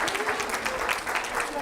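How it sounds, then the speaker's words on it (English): A classroom group gives the students a round of applause, a dense continuous clatter of many hands at a steady level for the whole short stretch, with no voices over it. "let's give them a round of applause for coming up and doing a good job."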